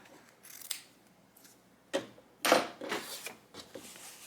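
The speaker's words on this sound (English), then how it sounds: "I just take scissors and trim off this extra right here" Several crisp snips of scissors trimming quilt binding fabric, close and fairly quiet, spaced irregularly with soft handling noises between cuts.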